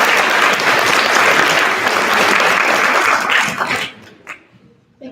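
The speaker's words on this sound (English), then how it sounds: "please give a big round of applause for our 3 recipients" Loud, sustained audience applause at a high school awards ceremony, many hands clapping for award recipients for nearly four seconds before quickly dying away to near silence.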